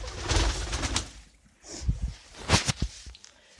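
A pigeon coos indoors in a room, soft throaty calls rising and falling close by, mixed with a few light rustles and taps.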